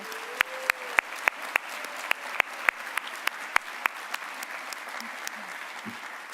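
Applause for award recipients at a fall staff assembly, a steady spread of many hands clapping with a regular beat of sharper claps on top, moderately loud and sustained, then thinning slightly toward the end.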